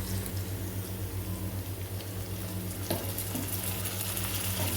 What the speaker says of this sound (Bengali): এ সময় আমি আদা রসুন পেস্ট দিয়ে দিব।